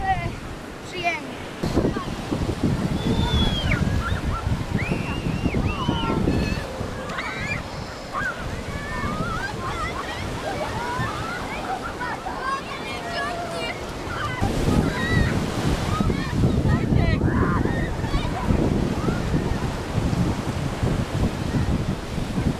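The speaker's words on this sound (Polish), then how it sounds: "Troszkę wieje, ale przyjemnie." Gusty wind blows steadily across an open outdoor spot, rumbling into the microphone in broad surges that strengthen toward the end, with faint bird calls in the background.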